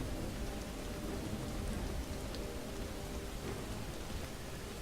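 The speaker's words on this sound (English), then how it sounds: "What's not brilliant is the rain" Rain falls in Skyrim as a steady, even hiss of drops on the ground, moderately quiet and unbroken, with no voices or other sounds over it.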